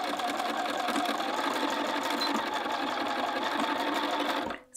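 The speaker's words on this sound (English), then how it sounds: "I'm going to back tack." A sewing machine runs continuously and loudly, back tacking along a seam on a quilted jacket, its rapid needle chatter steady until it stops abruptly at the end.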